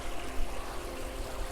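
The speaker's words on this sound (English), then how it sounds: "this looks like a natural babbling brook that you'd see in the forest" Water splashes steadily over carefully laid rocks in a backyard pond waterfall with filters and pumps, a close, continuous babbling-brook rush with no voices.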